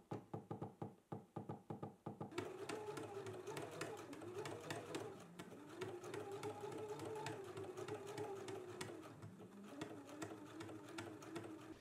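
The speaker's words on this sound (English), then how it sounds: "let's go to the sewing machine. We can pop on our zipper foot and we're just gonna stitch" A sewing machine with a zipper foot stitches through basted fabric layers. A few short starts and stops lead into a long run of rapid, steady mechanical chatter, with quiet voices in the background.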